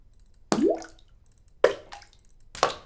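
Three separate splash and plop sound effects for a fishing minigame play one after another with pauses between, each a sharp watery drop with a short hollow ring.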